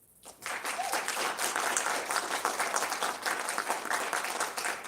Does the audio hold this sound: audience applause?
yes